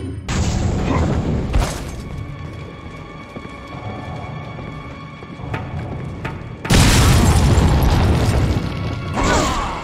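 Grenade blasts in the video game Resident Evil 4: a loud, heavy boom opens, then a stretch of rumbling gameplay noise before a second massive, sustained explosion roars in close and fills the scene.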